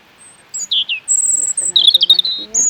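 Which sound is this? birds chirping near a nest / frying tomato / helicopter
birds chirping near a nest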